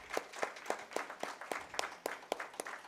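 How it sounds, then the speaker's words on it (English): Faint, sparse clapping at an awards event, with evenly spaced individual claps in a steady rhythm, quiet and somewhat distant rather than a full ovation. "Please give her a loud round of applause."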